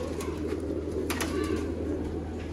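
A pair of Royal Teddy pigeons coos softly and low against a steady background hum, with faint higher chirps and rustling mixed in.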